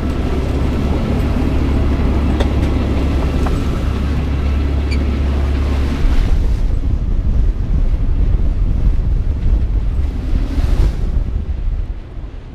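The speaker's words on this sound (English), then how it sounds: "the wind suddenly picked up to gale force" Gale-force wind tears across a sailboat at anchor in the Norwegian Sea, a loud, constant roar buffeting the microphone along with sea and surf noise, continuous throughout with no voices.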